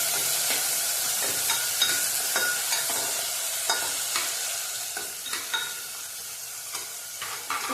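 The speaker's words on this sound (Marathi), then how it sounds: "त्यात आपण टॅमॅटो टाकू तेलात भाजून घेऊया चांगलं" Tomatoes frying in hot oil in a pan for a stuffed brinjal masala, a loud continuous sizzle and hiss with frequent scraping stirs of a spoon, close up and without any voices.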